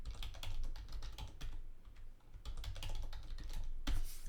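Fingers tap out a name and password on a computer keyboard in quick, uneven bursts of clicks, close up and alone, with a short pause partway through.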